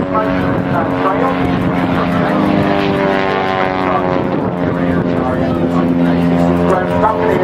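Propeller airplane flying at a seaside airshow, a loud steady engine drone with shifting pitch throughout, with no pauses.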